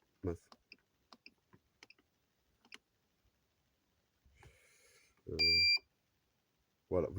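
An IBO M21 pump controller takes a series of soft, scattered button clicks, then gives a short, clear electronic beep. Faint voice sounds and a louder thump follow in a quiet room.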